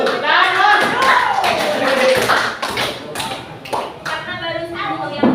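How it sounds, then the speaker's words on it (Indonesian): Children clapping in a classroom, uneven taps and claps scattered over several seconds, mixed with voices talking and calling out nearby. "Tepuk tangan untuk"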